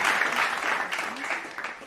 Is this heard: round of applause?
yes